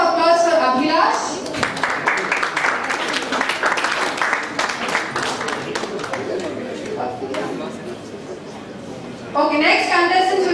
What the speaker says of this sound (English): A round of applause for Abhilash.